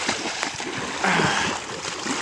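Water is churned and splashed around in a fishpond to drive fish toward a net, with continuous sloshing and splattering that swells briefly louder midway.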